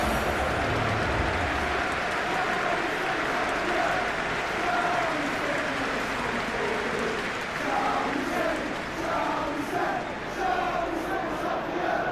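Stadium crowd in the football video game Football Life 2026, a dense, steady roar of cheering and applause that fills the whole stretch without letting up, with no clear speech above it.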